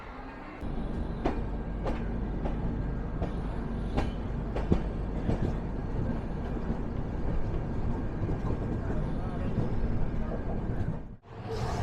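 The Gurudev Express, train 12660 from Kolkata, rolls into Erode Junction with a steady rumbling roar of wheels and carriages and periodic clanks. It is moderately loud and continuous, then cuts off sharply near the end.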